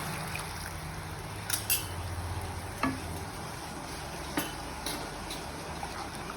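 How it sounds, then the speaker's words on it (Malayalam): Sugar syrup simmering and thickening in a pan on the stove, with a steady low bubbling sizzle and a few sharp scrapes and taps of a spoon as it is stirred, close and fairly quiet. "പഞ്ചസാര പാനിയാകുന്നവരെ ഇളക്കി കൊടുക്കാം. പഞ്ചസാര തിളച്ച് കുറുകാൻ തുടങ്ങിയിട്ടുണ്ട്"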